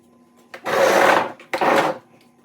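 Two loud grinding bursts of about a second each as a square-cut chainsaw chain is sharpened with a bench sharpener in a home workshop, close up, separated by a short pause with no talk.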